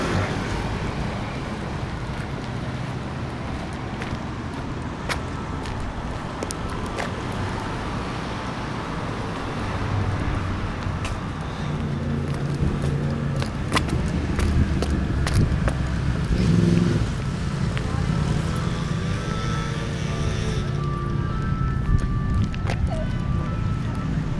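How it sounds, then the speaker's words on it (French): A steady wash of city traffic noise, engines rumbling and cars passing, with a faint hiss of wind throughout and no clear voices. "je regagne la route et le bruit des voitures, des moteurs"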